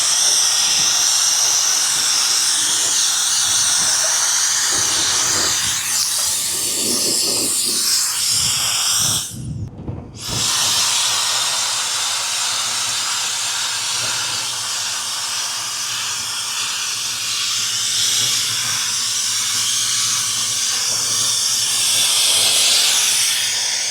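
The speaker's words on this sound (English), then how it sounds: "It's basically a little blower instead of me bringing up the" A small cordless battery leaf blower roars with a loud, continuous whoosh for the whole stretch, with a brief drop in power midway before resuming its steady rush of air.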